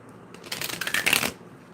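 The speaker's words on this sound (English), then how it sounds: "Let me shuffle these cards one more time and go from there for you." Tarot cards are shuffled close by in a crisp, rapid riffle of flapping and ticking that builds and fades, with no talk over it.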